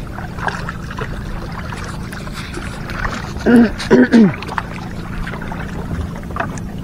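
A small boat is paddled home across water after its engine broke down, soft splashing and sloshing under a steady low hum, with a short burst of voice partway through.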